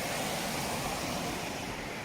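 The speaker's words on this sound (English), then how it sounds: "There's just waterfalls." Waterfalls along the wooded Minffordd path on Cadair Idris give a dense, even rush of falling water, steady and fairly quiet with no voices.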